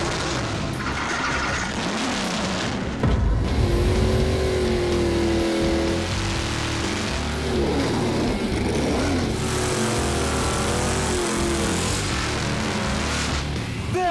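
Mopar drag racing cars fire up at a finals event in Memphis with a loud, continuous engine roar and revving. The revving rises and falls, with brief squealing over it.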